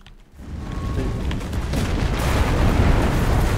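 A tank blows up in the World War II shooter Enlisted during a D-Day battle, heard as a sustained, loud rumbling blast that swells and stays heavy without any voices.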